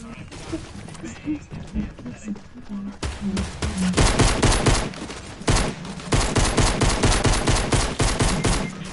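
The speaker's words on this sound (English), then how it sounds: "There's a billion people shooting me." Fortnite gunfire crackles in rapid bursts, first sparse shots and then dense sustained volleys from several weapons, loud and close, with a voice talking briefly over the game sounds.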